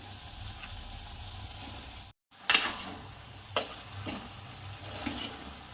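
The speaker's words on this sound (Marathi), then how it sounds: "आता आपण याच्यात वांगे ॲड करू तर वांगे ॲड करत आहे" Brinjal being stirred into a pigeon pea curry in a pan, with a low simmering sizzle, a brief dropout, then several close spoon scrapes and clanks against the pan.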